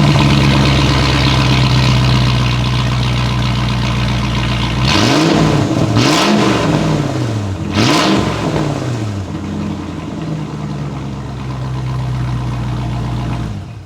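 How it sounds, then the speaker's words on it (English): A Land Rover Discovery V8 engine with an aftermarket exhaust idles with a deep, loud exhaust rumble, then revs hard twice in quick succession before settling back to a steady idle. "How amazing does that exhaust sound?"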